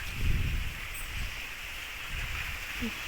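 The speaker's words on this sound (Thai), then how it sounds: "ลมแรงมากเลยนะคะ" Strong wind buffets the microphone outdoors in overcast, rainy-looking weather, a steady roaring rush with low gusty rumbles swelling and easing throughout, no voices.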